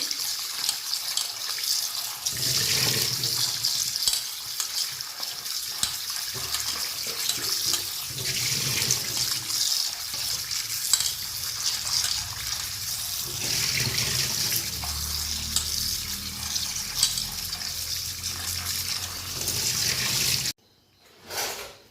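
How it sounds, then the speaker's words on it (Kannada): Running tap water pouring over dried fish being washed in a sink, a steady hissing splash with handling noises, close and continuous before cutting off abruptly near the end. "ಇದು ಚೆನ್ನಾಗಿ ನೀರಲ್ಲಿ ತೊಳಿಬೇಕು. 3-4 ನೀರಲ್ಲಿ ಚೆನ್ನಾಗಿ ತೊಳಿಬೇಕು."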